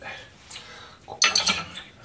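Dishes clatter as small plates and utensils are loaded into a dishwasher rack, a few close clinks and knocks with quiet, sparse sounds between them.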